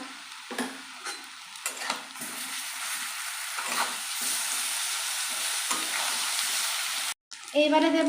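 Garlic paste hits hot oil with deep-fried potatoes for a Bombay duck fish curry, sizzling loudly and continuously while being stirred, with a brief gap near the end and a voice speaking briefly.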